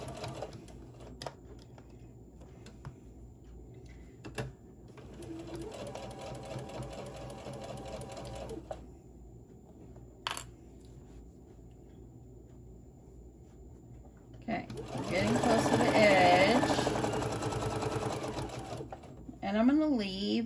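A sewing machine stitches a fabric Santa bag close to the edge, including a backstitch, its buzzing runs in short bursts and a louder stretch near the end, with a person talking throughout.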